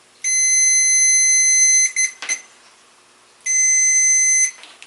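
A digital multimeter in continuity mode gives two steady, high-pitched electronic tones, the first lasting about a second and a half and the second just over one second, separated by brief handling clicks and rustling.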